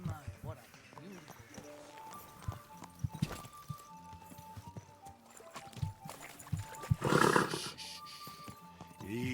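Horse hooves in the medieval video game Kingdom Come: Deliverance II, a scattered clip-clop of steps under game speech and music, with a louder burst of activity near the end.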